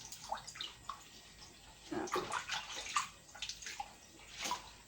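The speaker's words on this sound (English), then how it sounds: "I'm going to use all the leaves in here, give them a wash." Sweet potato leaves being washed in water, with soft splashes and sloshing in short irregular bursts, close but quiet, no talk.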